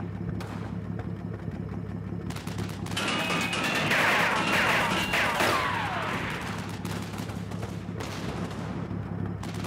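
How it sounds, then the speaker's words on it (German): A burst of rapid gunfire crackles and pops in the middle, over a steady low engine rumble, with scattered impacts before and after, in the Normandy war game Combat Mission: Battle for Normandy. "Und die Schüsse kommen herein."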